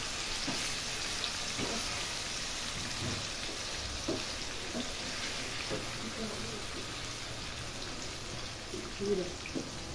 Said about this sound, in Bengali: দেখতে পাচ্ছ সবগুলো আম ঢেলে দিয়েছি। এবার কাজ হচ্ছে লাড়ানো। এগুলোকে ভালোভাবে নেড়ে নিচ্ছি।